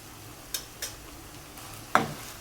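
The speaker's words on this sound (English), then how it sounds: "Stir fry them on a high flame for 3 to 4 minutes" Sliced carrots and capsicum stir-fry on a high flame, a soft steady sizzle broken by three sharp clacks of a utensil against the pan.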